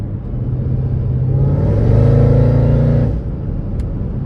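A 640hp Mercedes E55 AMG with a new crank pulley revs under on-off throttle, its deep engine rumble swelling to a strained peak midway before dropping back to a steady drone.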